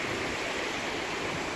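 Flood water from an overflowing river near Utsunomiya station in Japan rushes and roars steadily, a dense, continuous broadband wash close by with no voices.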